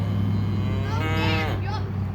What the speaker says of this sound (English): give me a moo